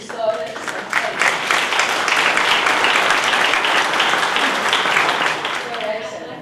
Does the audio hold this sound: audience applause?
yes